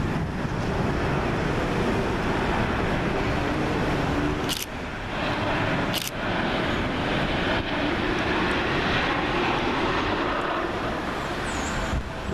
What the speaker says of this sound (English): Next up we have Ryanair Boeing 737-8AS, registration Sierra Papa Romeo Sierra Quebec, working flight FR4095, and that's come from Gdansk.